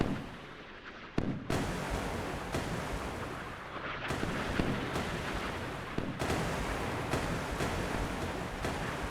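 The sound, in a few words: missile launch in a naval video game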